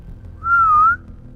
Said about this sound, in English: That was a whistle back.